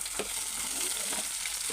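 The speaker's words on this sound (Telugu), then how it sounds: "పచ్చిమిరపకాయలు, ఉల్లిగడ్డలు ఇలా ఎర్రగా వేగాలి." Green chillies and chopped onions frying in a pan in a home kitchen, a steady soft sizzle with a few faint scraping stirs, no voices.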